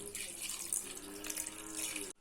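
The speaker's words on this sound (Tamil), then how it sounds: "கொஞ்சமா தண்ணி ஆட் பண்ணிக்கலாம்" Water pours steadily from a tap into a cooking pot while making mutton dalcha, a continuous close rushing splash that runs about two seconds and then cuts off abruptly.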